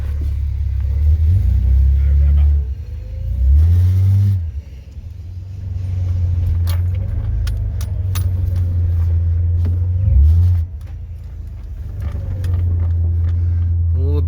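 A Holden VL Commodore rolls slowly around a yard on its first move, with a steady low engine rumble, two short revs and a brief lull where the engine drops away. A person speaks briefly over the engine.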